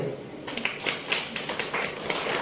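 Audience clapping greets two sisters invited onto the stage at a Hindi poetry and arts event, a dense run of hand claps with sharp bursts rising and falling through the applause.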